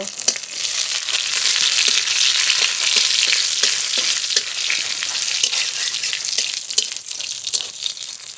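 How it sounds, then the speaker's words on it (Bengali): Dry red chilies and whole cumin seeds fry in a little oil, crackling in a continuous bright sizzle with scattered pops and light stirring clicks, close and loud, no voices. "শুকনো লঙ্কা গোটা জিরে ভেজে তুলে নেব"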